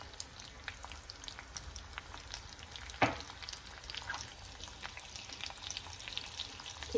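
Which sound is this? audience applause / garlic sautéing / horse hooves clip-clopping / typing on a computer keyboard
garlic sautéing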